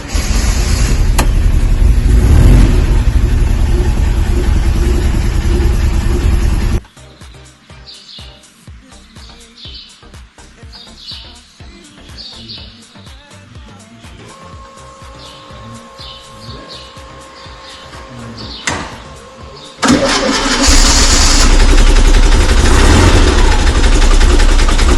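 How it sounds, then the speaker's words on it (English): A Devon bay window camper's engine runs in a workshop, a loud close rumble that drops away to a quieter idle with chirping and clicks, then surges back hard as the throttle is pressed. "Just one little press of the throttle."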